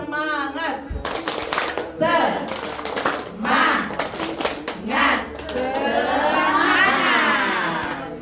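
Children at a PAUD kindergarten class in Gantrang, Bulukumba, perform the rhythmic tepuk semangat spirit clap, with bursts of sharp clapping mixed with their chanting voices and an adult's voice.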